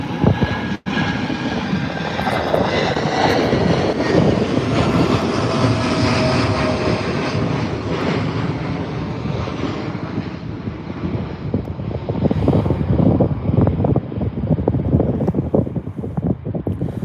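A Boeing 787 taking off at Birmingham airport, with a loud, sustained jet roar and rumble building and holding throughout, heard from outdoors with a broad engine whine and a gusty rushing texture.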